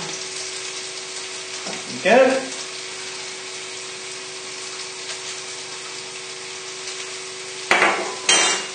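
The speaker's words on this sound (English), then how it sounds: "As soon as you put it in the water, just to give it a stir to make sure that it doesn't stick together." Pasta stirred in a pan of water for chilli pesto pasta, with short scraping swishes near the start and again at the end over a steady hum, and a brief spoken remark.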